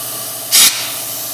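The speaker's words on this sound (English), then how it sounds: "I didn't know how this stuff was gonna spray." A single short burst of hiss from a spray gun laying coating on a 1962 Impala at 90 psi, loud and close, lasting about a fifth of a second over a steady background noise.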